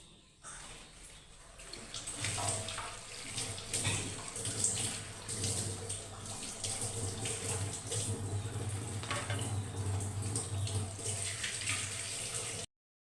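Tap water runs steadily into a sink with splashing as something is rinsed under the stream, fairly close and continuous.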